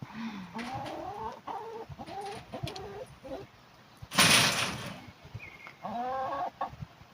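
Newly adopted hens cluck and squabble nearby in a series of loud, rising squawks and clucks, broken by a sudden burst of flapping or scuffling noise midway, with no talk over them.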